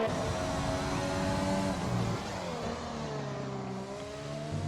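A Formula E style race car in an online racing league on the Hanoi circuit screams along at high speed, its engine note rising and shifting steadily with a harsh, continuous roar, close and loud, with no speech.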